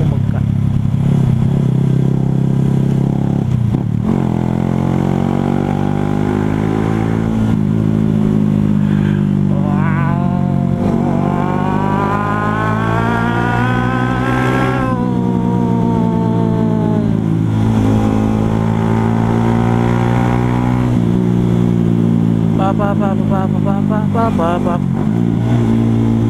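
Motorcycle ridden on the road with a worn front shock and poor brakes, its engine droning loudly and continuously, with rising and falling revs as the rider accelerates and eases off.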